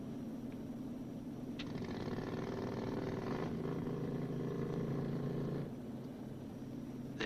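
The small auxiliary power unit, the putt-putt engine of a B-29 bomber, runs with a steady, muffled droning hum that holds evenly for several seconds, then shifts tone partway through.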